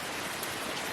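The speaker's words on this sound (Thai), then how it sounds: "ฝนตกฉ่ำมากเลยนะคะ" Heavy rain pours outside a hut as a dense, steady hiss of drops, loud and unbroken, with no voices.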